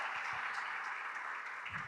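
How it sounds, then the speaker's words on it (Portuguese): Steady, dense clapping from a crowd at a church missions congress, sustained and fairly even throughout, with no voices standing out. "Vamos aplaudir?"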